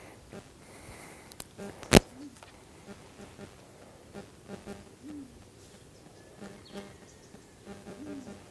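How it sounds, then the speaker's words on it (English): Owl hooting at night near the Manning River, faint and distant with soft repeated low hoots under night insects, plus a sharp nearby knock and quiet voices. "Hear the owl?"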